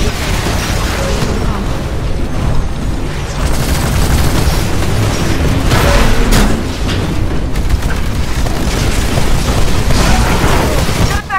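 Loud cannon blasts and explosions in the shooter game Titanfall on Xbox One, heavy booms and bursts over continuous battlefield noise, with voices talking throughout.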